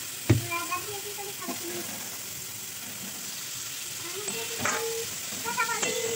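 Potatoes fry in a pan with homemade chilli powder, giving a steady close sizzle broken by a few sharp spatula scrapes and stirring knocks, with voices talking over it.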